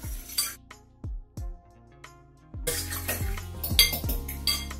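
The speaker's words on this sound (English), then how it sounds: "There now I'm gonna whisk the eggs." Eggs whisked in a bowl for spaghetti carbonara: a few ringing clinks against the bowl, then a quick, busy rattle of whisking that carries on steadily, close and fairly loud with no talk.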